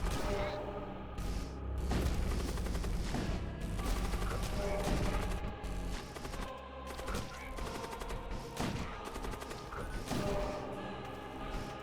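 Rapid gunfire and mechanical clatter from the video game Void War run dense and continuous, with sharp bursts layered over a busy, steady game soundscape throughout.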